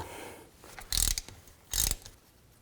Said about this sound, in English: So just use a 3/8 extension and a ratchet.